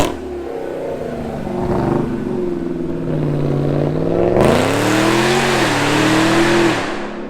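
A 900 hp Jeep Trackhawk with aggressive cams idles with a rough, choppy lope, then revs up hard. The engine climbs loud and close, holds a raw roar, and drops away at the end, with no voices.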